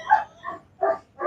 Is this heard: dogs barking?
yes